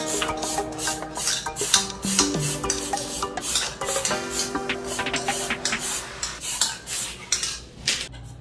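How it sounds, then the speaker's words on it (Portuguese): A paintbrush works over the metal lid of a tin milk can, giving close, busy scraping and tapping strokes in an uneven rhythm with faint metallic ringing. "E agora também vou pintar a tampa."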